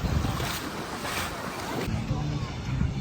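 Boats on open water near a crowded sandbar, with a rushing wake, waves and heavy wind buffeting the microphone, and a low engine drone underneath.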